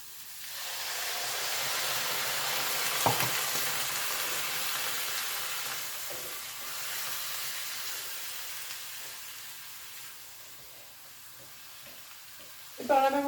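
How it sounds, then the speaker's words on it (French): Fennel deglazed with white wine in a hot pan gives a steady, close hiss and sizzle that fades gradually over the clip, with a sharp clatter near the start and a louder burst of sizzle at the end. "Maintenant je vais les déglacer avec"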